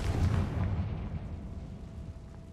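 Confringo fire spell exploding in the Hogwarts Legacy video game, a deep rumbling blast that decays steadily over a couple of seconds with no speech.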